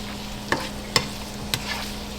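Food cooks in a frying pan with a steady soft sizzle underneath a few sharp utensil taps and scrapes against the pan, close and fairly quiet.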